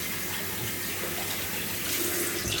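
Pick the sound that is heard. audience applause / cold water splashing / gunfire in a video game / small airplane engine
cold water splashing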